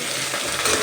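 Okra fries in oil over a high flame, giving a loud close sizzle with stirring scrapes that swell toward the end.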